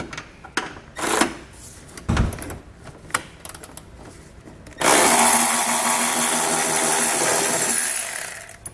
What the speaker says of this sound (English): grab ourselves a 16mm socket, and loosen those up and pull them out